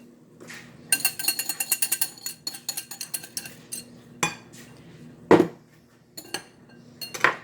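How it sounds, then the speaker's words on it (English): Cowboy caviar being stirred with dressing in a bowl, a spoon clinking and scraping against the dish in fast rhythmic bursts, then a few sparser knocks, close and clear with no talk. "We're going to stir until combined."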